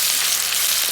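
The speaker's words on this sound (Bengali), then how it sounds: "পেঁয়াজটা একটু হালকা লাল লাল করে ভেজে নেবো" Onions frying in hot oil, a loud, steady close-up sizzle with no talking.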